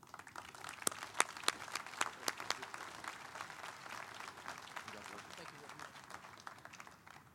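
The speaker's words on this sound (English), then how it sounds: "Please join me in giving all of our award recipients this year a big round of applause." Scattered clapping from a medical awards plenary audience honoring award recipients, individual claps standing out at first before settling into a faint, steady applause.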